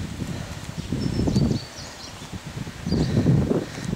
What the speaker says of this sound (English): Sorry if you can't hear me. It's pretty windy.